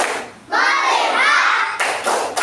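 Children in a classroom play a rhythmic focus clapping game, chanting together in unison before a few sharp group claps land in quick succession near the end.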